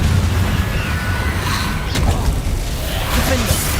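Confringo fire-blast spells burst in Hogwarts Legacy, dense rumbling blasts and whooshes filling the whole moment at a loud, steady level with faint voice beneath.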